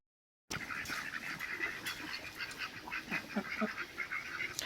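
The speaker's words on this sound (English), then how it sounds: "They have 13 ducks." Ducks quack and honk in a scattered, lively chorus at moderate distance, with no talking over them.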